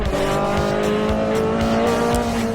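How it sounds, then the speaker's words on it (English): A Peugeot 905 Evo prototype race car sweeps past at high speed, its loud engine note droning steadily and rising in pitch throughout, with a faint hint of tyre noise. "the Peugeot 905 Evo is just going to come right past me"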